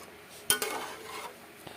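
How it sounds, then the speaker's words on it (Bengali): A metal lid set onto a pot of simmering fish and potato curry, giving one sharp close clank followed by a brief rattle and a smaller knock as it settles. "এটা ঢাকিয়ে রাখবো।"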